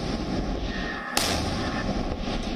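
A single loud boom from a made-in-India cannon during a 21-gun salute, a sharp blast followed by a sustained roaring rumble, outdoors and with no talking.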